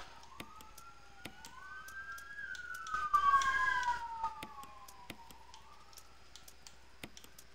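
Video game ambulance and police sirens wail in rising and falling sweeps, peaking loudest in the middle then fading, over a faint background with regular sharp ticks, no talk.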